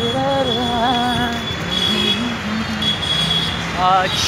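A metro train rumbles loudly and steadily past, with wavering tonal whines from the wheels and motors throughout.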